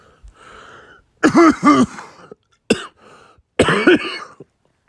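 Several coughs and throat-clearing bursts come in three clusters, fairly close and loud, with short quiet gaps between them and no talk.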